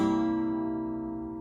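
A single strummed chord on an acoustic guitar, part of the strumming pattern for a song, rings out and slowly decays, played alone and close.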